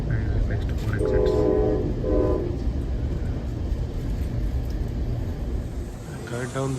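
An ACE passenger train riding from San Jose Diridon toward Lathrop rumbles loudly and continuously, with its horn sounding twice in short blasts early on and again faintly near the end over the constant rail noise.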